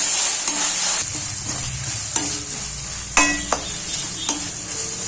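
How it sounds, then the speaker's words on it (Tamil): Tomatoes stirred and fried in a pan with ginger-garlic paste for a banana flower curry, loud close sizzling with several distinct scraping strokes of the spoon, no talk. "தக்காளி கொஞ்சம் நல்லா வணங்கட்டும்."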